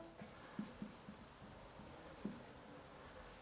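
A pen scratches across paper while a French verb is written out by hand, giving faint, close, uneven strokes with a few sharper taps in a quiet room.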